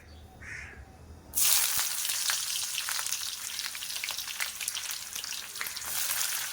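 Chopped onions hit hot oil with bay leaves in a pan for a mango chicken curry, setting off a sudden loud sizzle after a quiet moment that then crackles steadily on its own.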